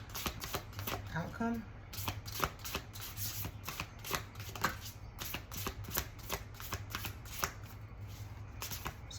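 Large tarot cards are shuffled in rapid, repeated riffling bursts close to the microphone, while a voice speaks briefly between them.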